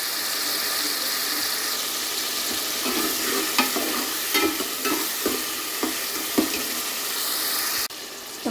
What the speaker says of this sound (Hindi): टमाटर हमारे फ्राई हो रहे हैं